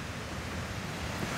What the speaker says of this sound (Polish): Jest to najwyższy wodospad w Bieszczadach.